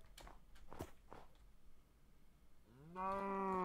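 A cow moos in Minecraft 1.14.4: one long, loud, steady bovine call near the end, preceded by a few soft blocky footstep-like taps.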